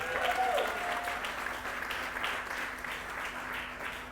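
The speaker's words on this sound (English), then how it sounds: "please give a warm applause for Water Reporter" Warm audience applause for a team at a sustainability startup demo day, even and sustained clapping from a crowd, heard from a little distance with a faint hum beneath.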